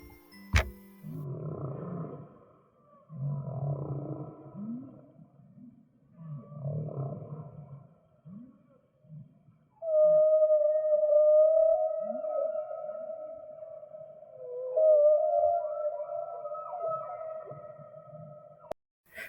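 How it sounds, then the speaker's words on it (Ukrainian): Whales call underwater with low, moaning pulses and groaning bursts, followed by long, sustained tonal wails that rise and fall, heard clearly and alone. "Послухайте, як розмовляють кити."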